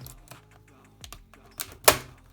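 Keys on a laptop keyboard click in a few sparse, irregular taps close by, ending in a sharper, louder clack, with quiet room noise between the taps.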